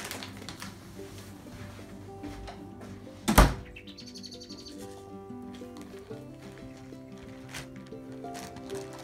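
Wild birds in a snowy garden chirp and tweet in short, steady calls at moderate distance, with a brief loud knock or clatter near the start.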